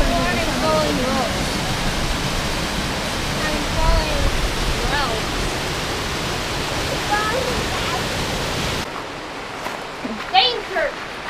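Helen Hunt Falls in Colorado Springs, a waterfall under icy conditions, pours as a steady, loud broadband rush that fills the scene, cutting off abruptly near the end with faint voices and scattered sounds afterward.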